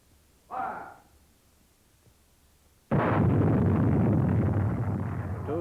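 Weapons fire on a WWII-era training range answers a shouted firing command: a sharp burst, then a long sustained roar of gunfire and blast noise that carries to the end.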